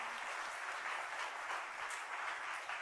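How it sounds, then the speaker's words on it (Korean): A church congregation applauds an award presentation for long-serving teachers at a Sunday evening service, giving steady, even clapping from many hands that sounds fairly distant and soft, with no talk. "박수로 축하해 주시기 바랍니다"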